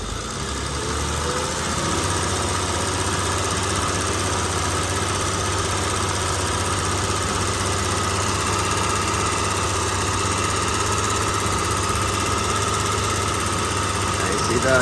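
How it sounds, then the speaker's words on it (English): A BMW's engine-driven cooling fan spins up steadily as its thermal fan clutch engages, a loud continuous whooshing roar over the idling engine that holds for the whole stretch, with some talk mixed in. "there goes a really high-speed fan right now"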